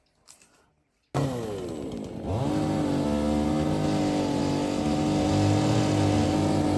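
A chainsaw starts up after a moment of quiet and runs loudly and continuously, its engine buzzing at a steady high rev close by.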